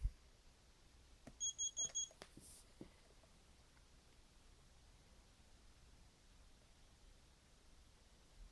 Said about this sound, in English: that beep you heard is what the alarm sounds like as well.